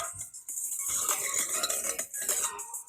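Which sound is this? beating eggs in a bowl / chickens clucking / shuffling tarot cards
beating eggs in a bowl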